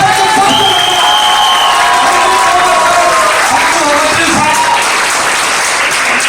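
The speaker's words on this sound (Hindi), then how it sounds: "एक दमदार ताली होना चाहिए।" An audience bursts into loud, sustained applause at an indoor motivational session, dense continuous clapping with some cheering and shouts from the crowd.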